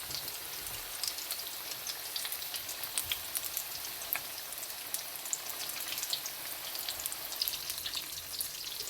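Continuous crackling sizzle of onion pakoras frying in hot oil, dense fine pops throughout, steady and close with no voices.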